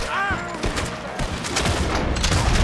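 Several loud gunshots ring out in Red Dead Redemption, sharp cracks in quick, uneven succession under a brief voice at the start, against a steady din of battle.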